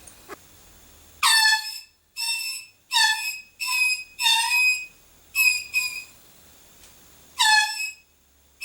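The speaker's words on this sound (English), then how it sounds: "what you first heard was my air horn failing as it ran out of air" A handheld air horn running out of air blasts in about seven short, sputtering bursts of uneven length, each a loud, bright, reedy honk with silent gaps between them.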